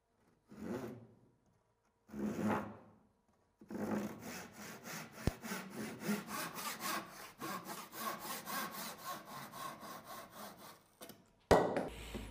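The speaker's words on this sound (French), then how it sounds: "Puis, les deux lattes peuvent être sciées sur mesure." Wooden battens are cut to size with a hand saw: two short starting strokes, then a long run of steady rhythmic rasping back-and-forth strokes, close and fairly quiet, ending with a clack.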